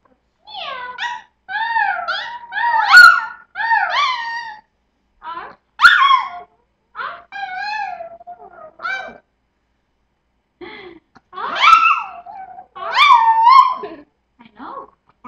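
A dog howls and yowls in a series of wavering, sing-song bursts separated by short pauses, loud and close with no other voices.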